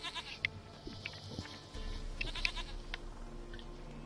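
Goat bleating in the video game The Witcher 3, several short bleats standing out over a steady ambient game soundscape with low background tones.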